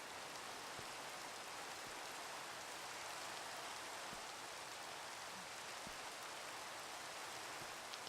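Rain falls in the Minecraft video game as a faint, steady wash of patter, with a few scattered louder drops and no voices.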